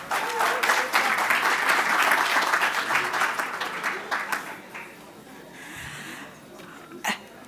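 Audience applause at an evening pitch competition for entrepreneurs, dense and loud, fading after about four seconds and settling to a quieter murmur with a few scattered claps.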